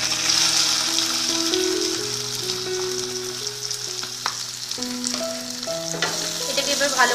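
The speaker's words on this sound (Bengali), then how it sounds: "ভালো করে আমি ভাজব যাতে কাঁচা গন্ধটা চলে যায় পেঁয়াজ আদা রসুনের" Onion with ginger and garlic paste frying loudly in hot oil, a dense continuous sizzle with occasional stirring scrapes, close and unbroken, with background music and no talking.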